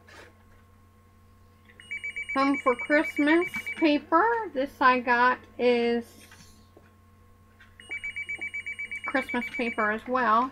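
A telephone rings steadily in two bursts, one early and one near the end, beneath continuous nearby talking about Christmas wrapping paper and cardstock.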